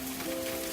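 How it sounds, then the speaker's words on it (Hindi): Steady rain falls outside a house in a cartoon, a continuous soft hiss of drops on surfaces with a faint tonal hum beneath, no voices. "बाहर बारिश बढ़ती जा रही थी और बारिश घर के अंदर तक आ रही थी।"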